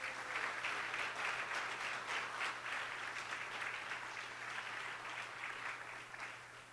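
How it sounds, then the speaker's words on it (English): A round of applause for the organizing committee at a government National Development Vision event, dense rapid clapping that stays steady and fades slightly at the close, with a low steady hum underneath. "Can you give a rousing round of applause?"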